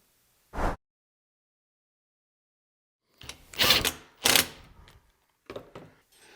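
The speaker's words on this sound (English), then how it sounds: "Now let's get it bolted up to the frame." An MFT workbench tabletop is bolted to its frame: one short mechanical click, then after a pause a cluster of loud ratcheting and rattling bursts close by, with no talking.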